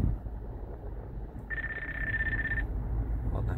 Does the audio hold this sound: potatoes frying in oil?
no